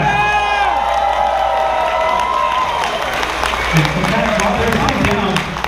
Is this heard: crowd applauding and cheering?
yes